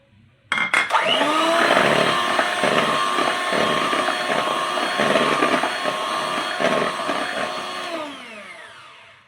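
An electric hand mixer beats curd into cake batter for a no-oven pineapple upside-down cake, starting abruptly and whirring loudly and steadily at close range with a rattling motor whine, then spinning down at the end.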